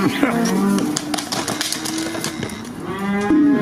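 Cattle low repeatedly in a pen where their calves are held nearby, with long drawn-out moos overlapping through the whole stretch and people talking faintly underneath.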